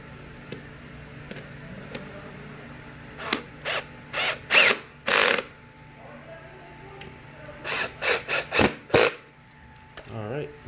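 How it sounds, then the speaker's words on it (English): A Phillips screwdriver drives screws into a wooden RealSpace 5-book bookshelf during assembly, with two bursts of ratcheting, scraping turns that are close and moderately loud and separated by a short pause. "You guys should be using a Phillips screwdriver."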